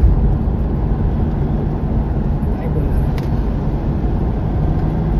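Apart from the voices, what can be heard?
vehicle passing through Kashedi road tunnel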